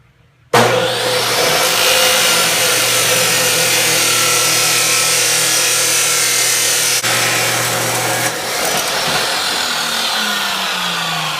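A power saw cuts through the end of a motorcycle's street-bike exhaust pipe, a loud, harsh, continuous grinding screech that starts abruptly and runs for about ten seconds before easing off.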